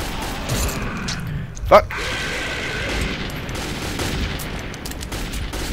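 A single sharp gunshot cracks out in Metro 2033 amid a low, busy background rumble, with a voice shouting nearby.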